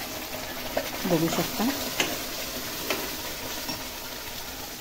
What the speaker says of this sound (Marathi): आता त्याच्यावर आपण जो वाटलेला मसाला पूर्ण टाकून घ्यायचा आहे